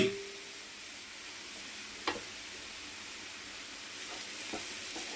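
Potatoes and carrots fry gently in a pan over a low flame, giving a soft, steady sizzle with a couple of faint clicks of stirring.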